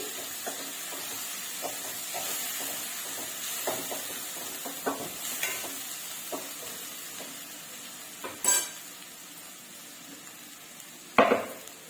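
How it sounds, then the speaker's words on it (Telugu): Masala frying in oil for a village-style fenugreek-leaf chicken, a steady soft sizzle and hiss with a few scattered clinks and stirring knocks from a pan, fairly close and alone without any talk. "ఇది కూడా పచ్చివాసన పోయేంత వరకు నూనెలోనే ఫ్రై అవ్వనివ్వాలి"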